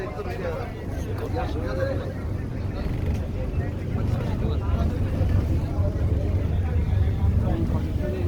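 A ship on a river trip hums with a constant low engine drone and wind rush throughout, people talking over it.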